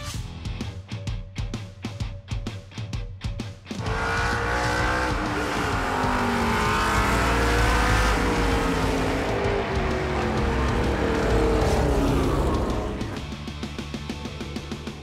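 Trans Am series race cars, first heard as a rapid rumbling burble, then one roars past up close at full throttle with a long, loud, rising engine howl that fades out, followed by further engine noise in the distance.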